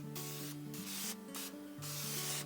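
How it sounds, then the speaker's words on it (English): Cooking spray hisses onto thick eggplant slices on a silicone mat in several short bursts with brief pauses between them, close and fairly quiet. "I do want to add a little spray"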